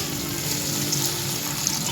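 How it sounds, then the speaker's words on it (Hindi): Water pours steadily into a pot of cooking keema, peas and potato curry to make gravy, a smooth continuous trickling stream close by with no talking. "अब इसमें हम थोड़ा शोरबे के लिए पानी डालेंगे"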